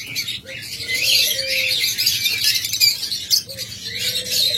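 A breeding pair of lovebirds chirping close by, dense, continuous high twittering and squeaky calls with a few lower notes underneath.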